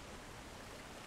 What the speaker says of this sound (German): Da oberhalb von dem Wasserfall.